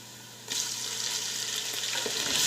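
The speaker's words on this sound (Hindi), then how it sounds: "प्याज लाइट ब्राउन हो चुके हैं और अब हम इसमें अदरक लहसुन का पेस्ट डालेंगे" Ginger-garlic paste dropped into a pan of lightly browned onions for aloo pulao, bursting into a loud, sustained frying hiss that rises and continues without talk.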